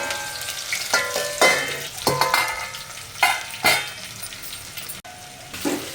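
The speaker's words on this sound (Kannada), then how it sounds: "ಬೆಳ್ಳುಳ್ಳಿ ಪಟ ಪಟ ಅಂತ ಹಾರ್ಬೋದಲ್ವಾ ಪ್ಲೇಟ್ ಮುಚ್ಕೊ ಇಲ್ಲಿ ಸ್ಟವ್ ಎಲ್ಲ ಗಲೀಜಾಗುತ್ತೆ" Garlic fries in hot oil in a pan on a stove, spluttering and popping in repeated loud bursts over a steady sizzle, with a few clinks of a utensil.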